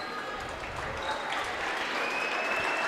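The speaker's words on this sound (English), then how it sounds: "she gets a nice ovation from the crowd on hand" Crowd at a high school girls' basketball game gives a player a warm ovation, steady applause filling the gym throughout, close and sustained, with faint talk underneath.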